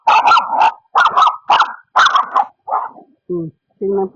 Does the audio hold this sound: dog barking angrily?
yes